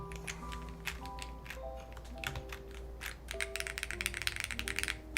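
Clicky, bouncy keystrokes on a custom-built mechanical keyboard, close and fairly loud, typed in irregular bursts that quicken into a rapid flurry toward the end, with a steady low hum underneath and no talking.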